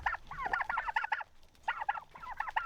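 Farm turkeys gobble and cluck at a feeder in bursts of rapid, warbling calls, one run of calls, a brief pause, then two more close-up bursts over low background noise.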